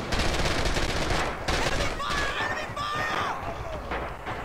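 Gunfire from the World War II shooter Red Orchestra 2, in a round on the Spartanovka map, comes as a burst of sharp, close shots with a few scattered cracks, while a voice talks over the action.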